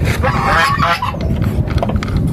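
Geese honking nearby at a goose and duck raft on the Mekong River in Nakhon Phanom, Thailand, several overlapping harsh calls over steady low background rumble.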